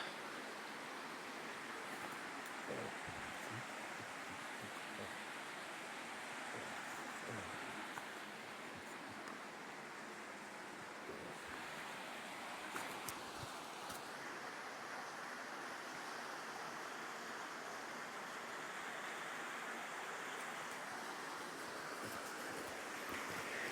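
Water flows through Ponora cave in a steady, even rush of broadband noise that stays faint and unbroken throughout, with no talking.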